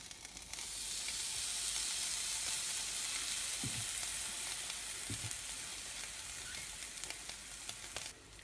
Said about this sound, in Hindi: अब मैं ये गार्लिक ब्रेड इस पे सेकूंगी